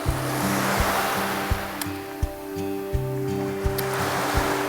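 Sea waves break steadily on a shore by a wave breaker after rain, with a constant roar of surf and a low tonal hum underneath, no voices.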